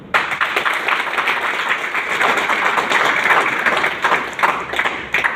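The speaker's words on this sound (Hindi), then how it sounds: "एक बार जोरदार तालियां बजाओ सभी लोग" Loud, sustained applause from a large audience, dense clapping that starts abruptly and carries on evenly throughout with no speech over it.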